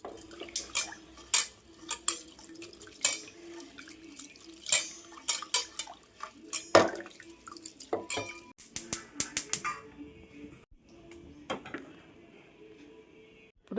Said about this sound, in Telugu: పెసరపప్పు, ఒక గుప్పెడు శనగపప్పు, ఇందులో వాటర్ పోసి శుభ్రంగా కడుక్కొని